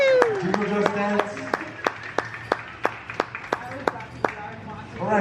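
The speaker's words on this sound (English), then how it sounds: "Another big round of applause for Toby Jose and Ariana" Audience at a dance performance breaks into scattered, rhythmic clapping, a dozen or so sharp claps at a steady pace after a voice fades out at the start, moderately close.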